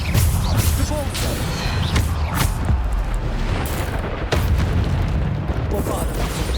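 Bombarda spell explosions in Hogwarts Legacy, a series of heavy booms and crashes fired off in quick succession while someone talks over the blasts.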